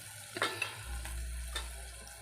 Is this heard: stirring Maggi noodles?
yes